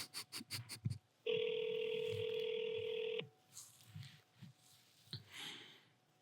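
On an outgoing call, a short burst of dialing tones is followed by a single long electronic ring of about two seconds, then quiet room sounds and soft rustling after it stops.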